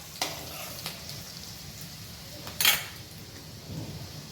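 Chopped red amaranth greens drop into a pan of sizzling garlic and chili, giving a soft crackling fry with a few sharp clatters and one brief loud burst of sizzle, fairly quiet overall, with no voices.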